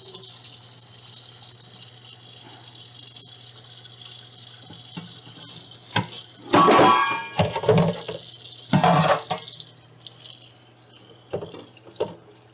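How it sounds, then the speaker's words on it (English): Warm tap water runs into a sink as California peony root is washed. Quiet room hum comes first, then the water gushes and splashes in two loud bursts with brief trickles between them. "So I'm just going to wash it with some warm water."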